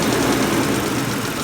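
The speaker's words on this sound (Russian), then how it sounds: "Мотор, да, троит, но работает тихо." A Mercedes M112 engine in a W210 idles close up with a steady, rough rumble and uneven beat from a misfire, dense and continuous throughout with no talk.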